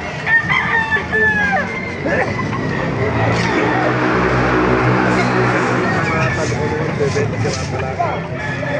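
Roosters crow loudly amid a busy chicken market in Baliuag, Philippines, with hens clucking, people chattering in the background, and a low engine rumble underneath.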